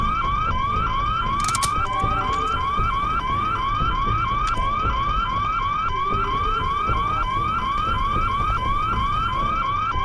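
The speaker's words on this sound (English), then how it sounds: "I know this alarm can be very annoying." A repeating electronic alarm wails in the stealth video game Hitman: Blood Money, made of rapid rising sweeps that cycle steadily and loudly for the whole stretch over a low background rumble.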